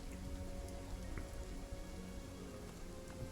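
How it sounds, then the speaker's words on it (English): Heavy rain pours steadily over a lower city street at night, a dense, even hiss of drops with low rumbling beneath, constant and close throughout with no voices. "There's a heavy rain falling over the lower city."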